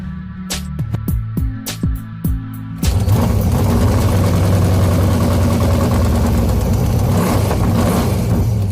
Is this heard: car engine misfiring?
yes